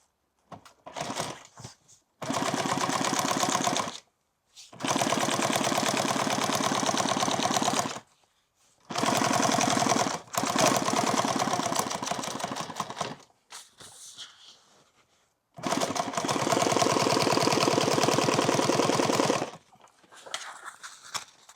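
A sewing machine stitching a bandolier runs in long loud bursts of rapid, even stitching, separated by short pauses and brief quieter handling sounds, with no talking.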